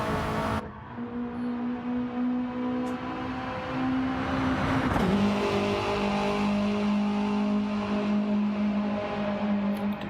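Mitsubishi Lancer Evo and Subaru WRX race cars run on the Tokyo Expressway South circuit in a driving game, a steady droning engine note that dips and shifts pitch midway, with several cars humming together and no talking.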